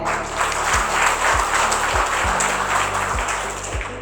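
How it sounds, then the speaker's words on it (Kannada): Loud applause from an audience at a Vijayavani Vijayothsava 2023 public event in Ujire, honouring Dr Satish Chandra: a dense, steady burst of clapping from a crowd, sustained for several seconds. "ನಮ್ಮ ಡಾಕ್ಟರ್ ಸತೀಶ್ ಚಂದ್ರ ಅವರಿಗೆ ಒಂದು ಜೋರಾದ ಚಪ್ಪಾಳೆ"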